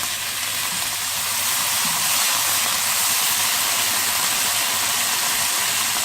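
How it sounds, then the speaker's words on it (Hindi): Soy sauce and vinegar hit hot stir-fried vegetables in a pan, setting off a loud, steady, close sizzling hiss that runs unbroken throughout, with no voices. "अब इसमें मैं सोया सॉस डाल रही हूँ। विनेगर डालूंगी।"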